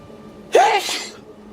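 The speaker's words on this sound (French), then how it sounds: "à tes souhaits" A single close, sharp human sneeze with a rising vocal onset and a breathy burst, heard alone in a quiet space.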